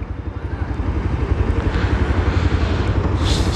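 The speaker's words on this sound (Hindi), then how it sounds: "एग्जॉस्ट नोट दे रही है बाइक, फुल बेस वाला एग्जॉस्ट नोट दे रही है" A 2023 Bajaj Pulsar 125 fi BS7 E20 motorcycle's engine and exhaust give a deep, bassy, rhythmic thumping close by, the pulses steady and loud throughout.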